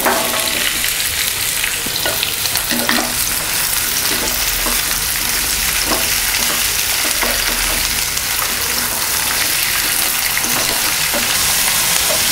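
Capsicum masala fries loudly in hot oil in a kadai, a dense continuous sizzle with faint stirring scrapes throughout and no voices.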